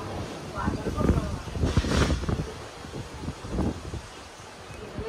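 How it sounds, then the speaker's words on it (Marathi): Strong gusting storm wind in a village, ahead of heavy rain, buffets the microphone with heavy low rumbles and rustling, while a person speaks over it. "वादळ वगैरे यायला लागलं आणि इतकं बेकार वातावरण झालंय. बाप रे, वारा बघा"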